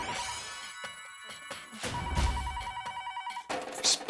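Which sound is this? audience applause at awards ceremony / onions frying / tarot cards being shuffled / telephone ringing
telephone ringing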